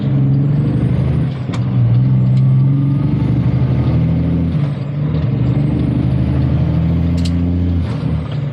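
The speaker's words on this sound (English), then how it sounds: "Be a private chip truck that's hauling ass" A logging chip truck rumbles loudly past at close range on a road in Alberta, its heavy diesel drone shifting pitch as it goes, with sharp hisses of air brakes cutting through.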